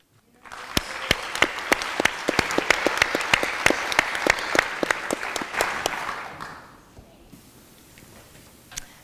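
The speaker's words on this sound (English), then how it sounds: "that was some applause" An audience applauds steadily for about six seconds as a pastor is welcomed to the podium, with a few sharp claps standing out, then the clapping quickly dies away into a quiet room.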